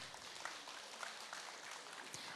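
At an anniversary ceremony for a Red Cross lifelong-learning college, an audience claps together in a steady, dense wash of applause that holds evenly for a couple of seconds, faint and somewhat distant.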